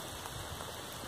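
Steady rain falls on a hiking trail, a dense, even hiss with no pauses or distinct drops, close and continuous throughout.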